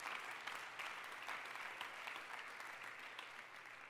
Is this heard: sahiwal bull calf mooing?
no